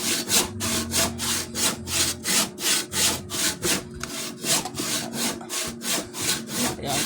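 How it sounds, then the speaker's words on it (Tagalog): Thick wooden board being cut by hand with a handsaw, steady rhythmic back-and-forth rasping strokes close up, about a dozen even strokes with a brief pause midway, no talking. "Lalagari ko"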